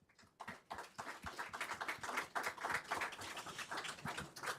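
Audience applause at a panel discussion on biosafety and pandemic preparedness, sustained clapping from a crowd, even and moderately loud for several seconds.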